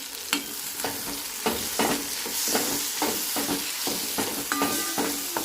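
Tomato chutney being stirred in a pan with red chili powder and garam masala: a steady run of scraping spoon strokes over a soft sizzle, close and moderately quiet, with no talk.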